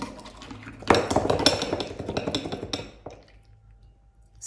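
A big, heavy weighted spoon clinks and rattles repeatedly against a cereal bowl, a quick cluster of close metallic knocks that fades to quiet.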